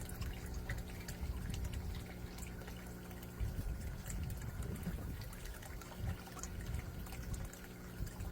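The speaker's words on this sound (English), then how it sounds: "And they're splashing." Fish such as bluegill and koi splash in an outdoor aquaponics tank at feeding time, giving a continuous wash of watery sloshing and trickling with a few stronger bursts midway, close and fairly steady throughout.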